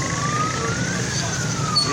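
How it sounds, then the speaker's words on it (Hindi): Emergency vehicle sirens wail steadily and loudly with slowly rising and falling tones at the flooded Nala Lai stream in Rawalpindi, a continuous rumble of crowd and traffic noise underneath. "ये आप लाइव फुटेज देख सकते हैं, सायरन बजाए जा रहे हैं।"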